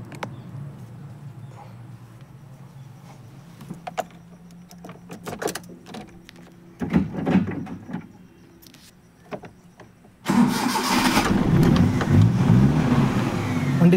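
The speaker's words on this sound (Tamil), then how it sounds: "வண்டி ஸ்டார்ட் பண்ணுறேன் பாருங்கள்." A Maruti Omni van engine cranks and catches, then settles into a loud, steady idle after a quieter stretch of small handling noises and clicks.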